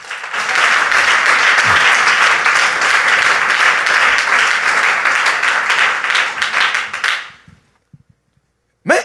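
A church congregation bursts into sustained, dense applause during a sermon, loud and close, then the clapping fades out abruptly near the end, leaving silence and a brief final sound.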